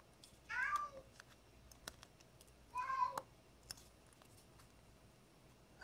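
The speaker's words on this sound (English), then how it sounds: "I have a Siamese cat" A Siamese cat meows twice, a few seconds apart, fairly near, over quiet room background with light clicks and rustles of handling small parts.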